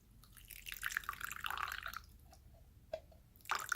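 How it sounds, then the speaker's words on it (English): Leftover meat juices poured from a pan into gravy, giving soft wet splashing and dripping that trails off into scattered drips, fairly quiet and close. "I'm actually going to take this extra liquid and just pour it into my gravy"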